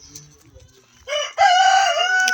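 Cocks on a small poultry farm crow loudly and close, one long strained cock-a-doodle-doo rising after brief clucking and a short first call, with no talking.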